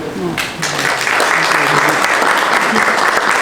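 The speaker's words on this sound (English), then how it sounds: "just give them a round of applause for these people" An audience at a Lindenwold council meeting breaks into applause, a dense steady clapping that swells after a moment of talk and continues evenly, with a voice faintly audible beneath.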